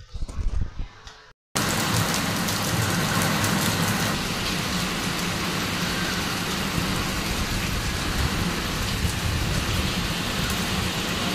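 Heavy unseasonal rain pours in Manegaon, Sinnar taluka, a loud continuous roar of downpour with low rumbles of thunder underneath, following a short, fainter stretch of other sound that ends in a brief cut.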